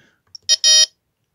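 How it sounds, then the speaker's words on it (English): Range test beeps from a Jeti radio transmitter: a tiny click, then two sharp electronic tones, the first short and the second longer, loud and close with silence after. "Range test, I think that's beep,"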